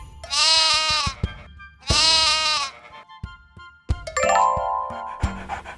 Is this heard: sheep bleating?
yes